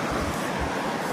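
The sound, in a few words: Saraswati river rushing loudly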